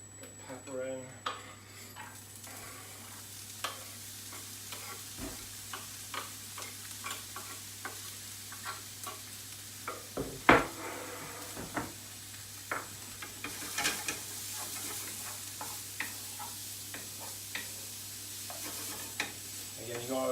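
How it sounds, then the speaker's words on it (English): Garlic and pepper fry and get stirred around a dry pan, a quiet ongoing sizzle broken by regular light scrapes and clicks of the utensil against the pan, with one sharper knock near the middle. "Okay, so just get garlic just cooking on."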